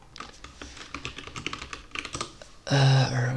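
Rapid typing on a computer keyboard, including arrow keys, gives a busy run of close clicks and taps, then stops abruptly as a loud tonal sound takes over at the end.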